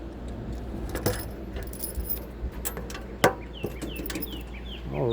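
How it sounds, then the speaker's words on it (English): Metal keys jingle and clink in bursts against a steady outdoor background, with faint bird chirps in the distance. "get this lock on one hand with all these keys in my hand"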